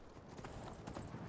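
Steady hoof clops from a horse moving at a walk in the video game Skyrim, continuous and fairly close, with a busy background noise underneath.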